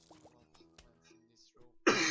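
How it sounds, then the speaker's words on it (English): A single loud, abrupt cough bursts in at the very end, following a stretch of quieter tonal game sounds. "something happened to me, I had to cough"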